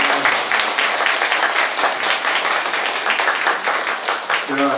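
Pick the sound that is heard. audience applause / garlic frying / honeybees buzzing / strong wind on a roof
audience applause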